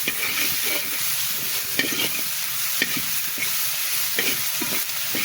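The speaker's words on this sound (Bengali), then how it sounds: "এবারে সুন্দর করে একসঙ্গে ভেজে নেব" Mrigal fish frying in a pan with salt, chili powder and turmeric, stirred steadily with a spatula: a continuous close sizzle with repeated scraping strokes throughout, no voices.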